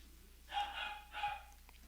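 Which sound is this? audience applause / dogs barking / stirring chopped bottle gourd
dogs barking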